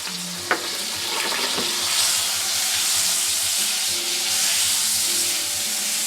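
A clove of garlic sautés in a pan before spinach is added, giving a steady close sizzle and hiss that runs throughout, with a few light clinks of utensils near the start.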